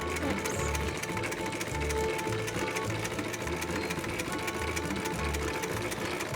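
A foot-pedal sewing machine runs at a steady, close-range stitching rhythm with its needle hammering rapidly and continuously throughout, with no talking.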